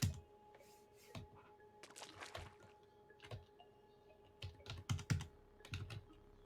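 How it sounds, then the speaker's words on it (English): Computer keyboard keys mashed in quick irregular bursts, clustered clacks and thumps close by with short pauses between flurries, no talking. "mash my keyboard until like"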